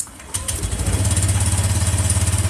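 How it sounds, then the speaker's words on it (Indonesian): A Honda motorcycle engine cranks and fires, then settles into a loud, fast, steady idle with a regular pulsing beat, close up. "langsung aja coba motor dihidupkan"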